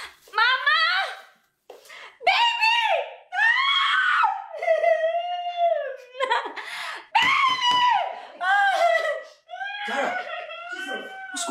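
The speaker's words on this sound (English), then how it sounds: "Why are you screaming?" Shrill, repeated screams in bursts of varying pitch, mixed with laughing, close and loud with short pauses between outbursts.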